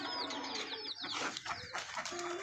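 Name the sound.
chickens clucking on a farm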